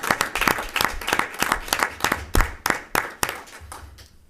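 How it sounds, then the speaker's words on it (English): A small gathering at a school board meeting claps for an Educator of the Year honoree, a thin scattering of distinct handclaps in a quick, uneven rhythm that fades out after a few seconds. "Yeah, let's give him a round of applause."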